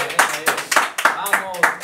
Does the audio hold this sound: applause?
yes